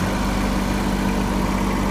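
Compact tractor engine, a 2210 model, running at a steady raised throttle with a continuous low rumble and even vibration, close and alone without talk.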